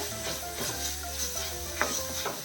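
Onions sauté in a pan while being stirred, a close, steady sizzle with scraping stirs and a brief clink, heard alone without speech.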